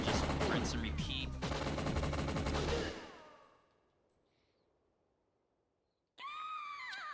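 N60 machine gun fire in the Winback: Covert Operations video game, a loud sustained burst of rapid shots that stops and fades into quiet, followed by a sudden return of loud game sound.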